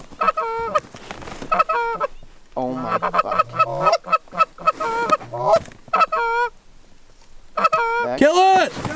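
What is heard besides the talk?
geese honking during goose hunt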